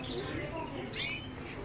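Isabelita canaries chirp inside a cage, with a brief cluster of thin, high twittering notes rising once midway through a steady, noisy background.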